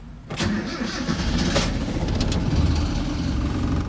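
A 1960s Toyota Publica 1000 (KP30) engine cranks and catches after a moment, then runs loud and close with a rough, steady idle and slight revs.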